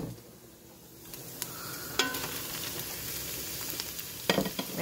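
Sausage sizzles loudly in a pot over sweated-down onion and peppers for a gumbo-style soup, a steady frying hiss with a few sharp pops and clicks from stirring, close and unbroken by speech.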